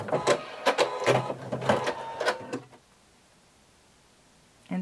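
A sewing machine backstitching a narrow zigzag on swimsuit fabric, a quick run of rhythmic mechanical whirring bursts close by that stops abruptly, leaving near silence before a final brief sound.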